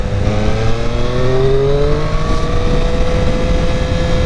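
A Triumph 765R motorcycle engine pulls hard under acceleration in rain mode, its tone sweeping upward as the throttle opens, loud and continuous with no voices.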